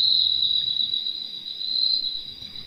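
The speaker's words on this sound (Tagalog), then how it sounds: "ang kuliglig ay hindi lamang insekto" A cricket chirps in a steady, continuous high trill, close and clear, with no other sounds around it.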